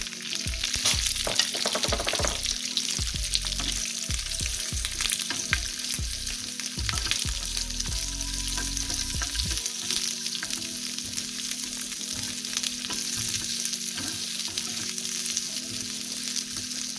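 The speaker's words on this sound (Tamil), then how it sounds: "கொஞ்சம் கடுகு எண்ணெயை ஊற்றி எண்ணெய் கொதிச்சோன்னா கடுகும் கொஞ்சம் பெருஞ்சீரத்தையும் போட்டு" Mustard seeds, fennel seeds, curry leaves, a dried red chilli and chopped shallots fry in hot oil as a tempering for sodhi, a steady loud sizzle with crackling pops throughout, close up and without talk.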